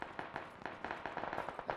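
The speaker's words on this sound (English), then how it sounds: "still plenty of gunfire" Rapid bursts of gunfire crack in quick succession in the video game Battlegrounds, sharp and fairly distant, scattered irregularly across a short stretch.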